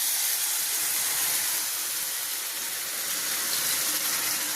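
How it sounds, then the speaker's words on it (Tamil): Water poured into a cooking pan of potatoes, chilli powder and salt, a steady rushing, hissing pour heard close and alone for several seconds. "இப்போ நம்ம தண்ணி ஊற்றிடலாம்."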